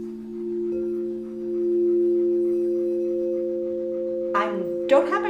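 A crystal singing bowl rings a sustained, high, bright tone that swells gently and holds steady for several seconds, close and clear, before a voice starts talking over it near the end.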